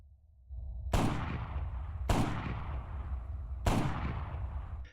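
Three heavy single shots from an M320 LRR rifle firing APDS rounds in Arma 3, each a sharp loud crack with a long rumbling tail, evenly spaced about a second apart.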